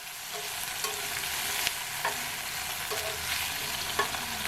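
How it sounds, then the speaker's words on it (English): Onions coated in sauce for Chinese-style steamed seabass, stirred in a hot pan: a steady close sizzle with periodic scraping strokes of the utensil, no voices. "After adding, I give everything a good stir to coat the onions"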